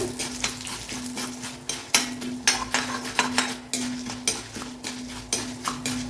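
Chillies frying in hot oil in a pan for coriander chutney: a steady close sizzle broken by repeated scraping stirs of a utensil against the metal pan, with no talking.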